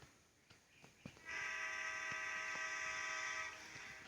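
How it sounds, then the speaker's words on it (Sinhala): A few clicks, then a long, loud, steady vehicle horn in a bike video game blares for about two seconds before cutting off, buzzy and harmonic like a train horn. "ඕ මචං හෝන් එක යවුවා."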